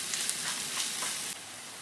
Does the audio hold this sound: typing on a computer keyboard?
no